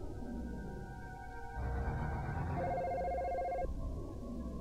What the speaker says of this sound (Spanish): Si pones la línea en hold, el teléfono seguirá llamando.